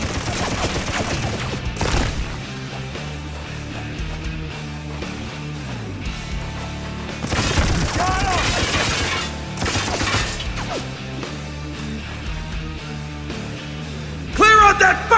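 Heavy .50 caliber machine gun fire in the war shooter Spec Ops: The Line, dense bursts mixed with explosions, shattering debris and a loud game soundtrack, with shouting voices in the chaos.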